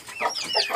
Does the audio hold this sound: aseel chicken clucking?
yes